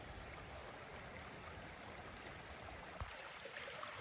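Creek water at Little Niagara in Chickasaw National Recreation Area rushes steadily as two streams join, a dense broadband flow that stays close and continuous with no voices.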